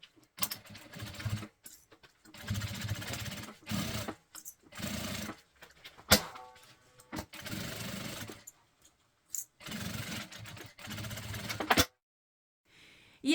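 A sewing machine runs a seam with tabs on a double men's toiletry bag, in repeated short bursts of close, rhythmic stitching separated by quiet pauses and small handling clicks, with no talk.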